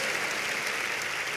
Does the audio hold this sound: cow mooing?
no